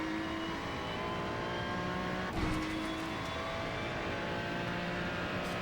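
Ferrari 296 GT3 race car at Brands Hatch in iRacing, its engine droning steadily under full throttle with a sharp bump partway through as it keeps pulling, with no talk over it.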